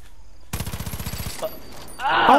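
Gunfire from an inaccurate DLC gun in a video game, a rapid burst of about a dozen evenly spaced shots, followed by a short pause and then a voice speaking loudly.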